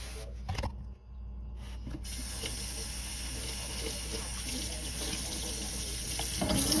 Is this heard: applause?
no